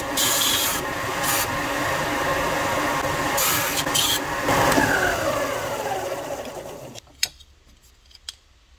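A power sander grinds a plastic front storage-lid hinge from a Polaris Sportsman 450-570, giving a steady, close abrasive whir that stops abruptly after about seven seconds, followed by a couple of faint clicks.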